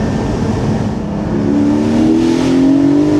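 A Porsche 718 Spyder fitted with a Milltek exhaust accelerating on a leaf-covered road, its engine note climbing steadily in pitch and loudness over a few seconds, close and continuous with no talk.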